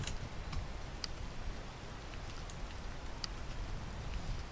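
Steady rain in the video game Peak, a dense even hiss of falling drops with scattered light ticks, constant and fairly loud throughout with no talk over it.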